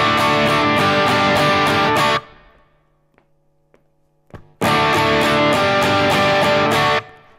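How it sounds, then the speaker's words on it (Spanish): Distorted electric guitar plays the main riff of a song, loud crunchy chord bursts, a short near-silent gap with a few muted picks and a strum, then the riff returns. "Empezamos con el riff principal,"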